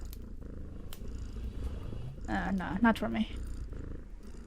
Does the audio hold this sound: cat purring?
yes